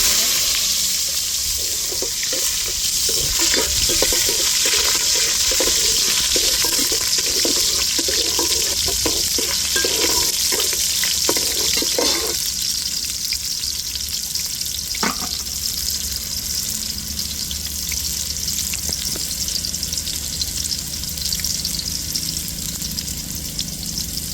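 Onions fry in a fenugreek tempering of oil for a fish curry, a steady hissing sizzle running throughout, with a cluster of clattering stirs early on and a single sharp knock later.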